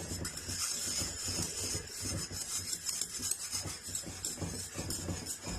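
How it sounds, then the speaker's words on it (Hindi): A spoon stirs custard continuously in a pot while lab-e-shireen dessert cooks. The scraping and rubbing is steady and close, with a dense, even texture and no pauses. "मुसलसल चमचा जो है वो हिलाते रहें जब कस्टर्ड शामिल करें"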